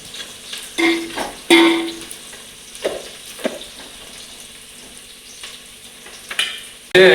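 Sliced onions fry in a pan for chicken biryani with a soft, steady sizzle, punctuated by several sharper clattering stirs and clinks of a utensil scattered across the seconds.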